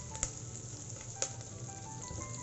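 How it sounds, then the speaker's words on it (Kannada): Dried red chillies, whole with stems, frying in oil for a festive tempering, giving a steady low sizzle with two brief sharper crackles near the start and middle, close by with no talk. "ಚೆನ್ನಾಗಿ ಫ್ರೈ ಆಗಬೇಕದು."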